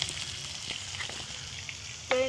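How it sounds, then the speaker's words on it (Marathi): Tempering spices crackle in hot oil on a wood-fired chulha, a steady close sizzle that ends with a brief metallic clink. "मला फोडणी देऊ द्या पहिले."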